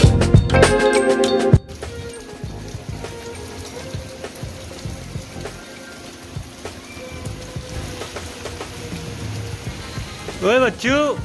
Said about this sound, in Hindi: बच्चू बारिश हो रही है